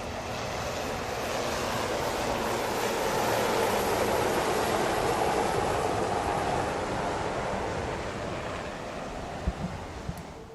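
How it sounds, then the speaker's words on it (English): UH-3H helicopters fly past at an Indian Navy Day flypast, a broad rumbling engine roar swelling and fading over about ten seconds, distant and steady, with no speech. "the UH-3H helicopters"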